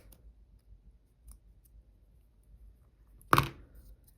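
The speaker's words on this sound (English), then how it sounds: "I'm taking some very sharp scissors and going really close to the edge to just trim off this" A single crisp snip of very sharp scissors cutting through lace trim during book nook crafting, one short close cut in an otherwise quiet room.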